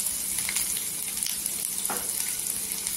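Garlic, cumin seeds and mustard seeds frying in hot oil in a pan for a Marathi lasuni bhendi masala, a steady close crackling sizzle with scattered pops throughout.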